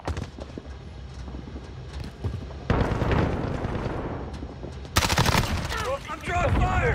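Gunfire in Modern Warfare (2019) multiplayer, bursts of shots over a dense, busy battle mix that gets louder and harsher partway through, with a voice calling out under the noise.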